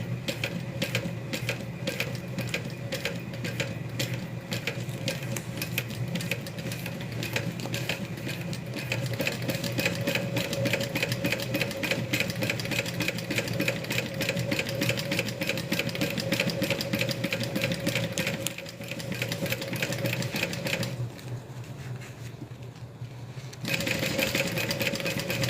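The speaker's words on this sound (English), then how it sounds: "then we're going to sew that down" Sewing machine running steadily while stitching a wristlet, a continuous mechanical whir with a fast needle rhythm, slowing briefly and pausing near the end before resuming, close and alone.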